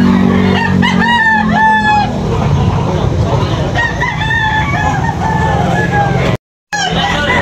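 Roosters crow repeatedly at a busy chicken market in Tabunok, Talisay, several loud rising calls close by over a constant crowd and traffic din, with a brief dropout near the end.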